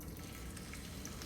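Vegetables frying in oil in a hot pan give a faint, steady sizzle with no clear peaks and no voices.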